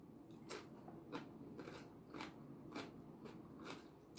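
Cucumber is eaten in close, quiet crunchy bites, about seven or eight crisp crunches evenly spaced with soft chewing between them and no talking.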